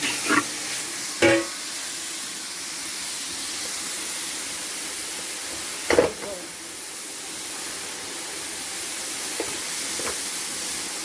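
Spaghetti stir-fried in vegetable oil in a pan, a soft continuous sizzle and hiss with a few sharp, brief stirring knocks scattered through it, moderately close.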